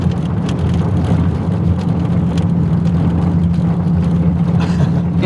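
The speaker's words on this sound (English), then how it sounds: "This is a brick road we're driving on" A Porsche 997 or 996 with suspension trouble driving over a brick road, heard from inside as a steady low rumble with dense rattling texture from the road surface, loud and continuous with no speech.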